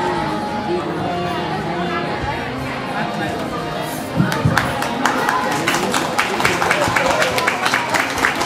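At a mahayagya religious gathering in Belgium, a crowd murmurs and chatters before loud applause breaks out about halfway through and keeps going.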